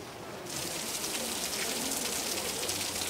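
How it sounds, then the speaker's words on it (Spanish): Steady rain falls on a farm collective, a dense even hiss of drops that swells in after a brief quieter start and holds constant throughout. "Todos huyen de la lluvia."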